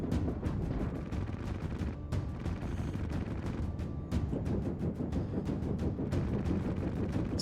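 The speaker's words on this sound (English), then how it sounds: "it's just gonna keep shooting at him" Spaceship weapons firing in the space combat game In The Black: rapid, steady bursts of shots crackle over a dense, roaring battle background, continuous and loud throughout, with no talk.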